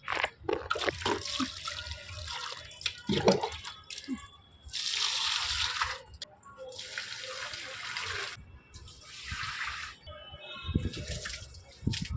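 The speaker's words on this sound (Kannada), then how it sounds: "ಇವಾಗ ಗಿಡಕ್ಕೆ ನೀರು ಹಾಕೋಣ" Water poured onto a young jackfruit plant grown from seed: repeated hissing, splashing bursts of water several seconds long, separated by short pauses, with a few clattering and handling noises in between.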